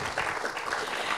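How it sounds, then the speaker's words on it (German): A brief burst of audience applause at a Viennese café event, a close, full patter of many hands lasting only about a second. "Applaus natürlich."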